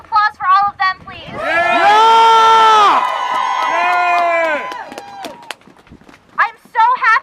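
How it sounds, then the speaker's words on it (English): A rally crowd cheers and whoops in a long, loud swell that holds for several seconds and then fades, with short bursts of a speaking voice just before and just after. "Can we have another round of applause for all of them, please?"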